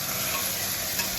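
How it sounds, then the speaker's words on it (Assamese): Chicken curry meat cooking in a pot, heard as a loud, even, unbroken sizzling hiss close by, with no voices over it. "মাংসখিনি এবাৰ লাৰি দি ঢাকনি লগাই দিলোঁ"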